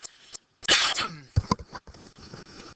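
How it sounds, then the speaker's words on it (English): A single short cough bursts out close to the microphone, followed by a few small rustles and a faint throat sound. "Excuse me, I need to cough a second."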